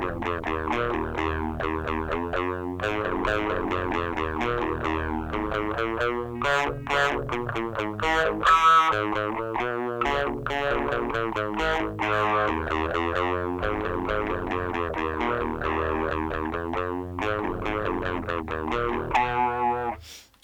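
Electric guitar through an ART SGX 2000 multi-effects unit on a distortion preset, heavily driven chords and riffs played continuously and loud for the whole stretch, no talking.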